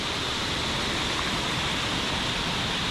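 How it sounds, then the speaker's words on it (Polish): Steady, full roar of a waterfall on Siquijor island, a broad constant rush of falling water with no breaks and no voices. "Ale no, wodospady, wodospady są piękne, robią wrażenie."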